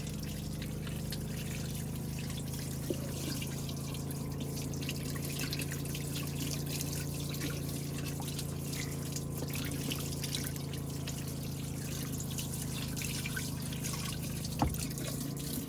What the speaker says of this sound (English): Let's get to washing.